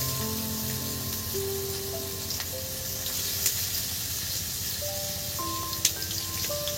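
Chopped onions frying in hot oil for a Lote fish (Bombay duck) dish, giving a steady, close sizzle and crackle with faint clinks of stirring, no talking.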